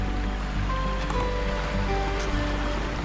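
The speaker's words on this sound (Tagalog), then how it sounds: "Malakas yung agos ng" A strong river current rushes steadily past a riverside campsite, a loud continuous churning wash close by, with a low engine-like hum underneath.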